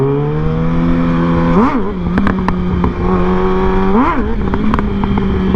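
A 600cc motorcycle engine running loud and close, its throttle flicked twice so the revs rise sharply and then drop back to a steady idle, with small clatters between the blips.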